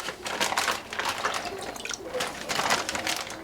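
Brine dripping off BBQ chicken halves lifted from the brine, a continuous close patter of liquid falling in steady drips, with no talk.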